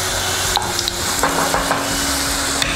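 Onions fry steadily in a pan for mutton fry, a loud, continuous close sizzle with a few light stirring clicks and no talking.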